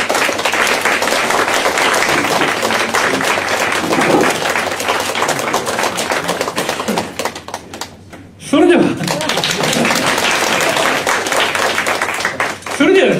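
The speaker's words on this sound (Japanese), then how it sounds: "拍手をお迎えください。" Lively applause from a street jazz crowd in Niigata welcomes a band's vocalist, a loud, dense patter of clapping that briefly drops away midway before surging back, with voices mixed in.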